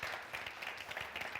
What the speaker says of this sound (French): On va l'applaudir très très fort s'il vous plaît.